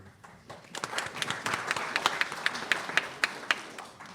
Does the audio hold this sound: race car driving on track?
no